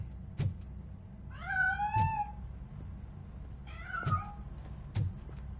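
A cat in a PlayStation 5 video game meows twice, drawn-out wavering calls, with sharp knocking thuds before, between and after them against a quiet background.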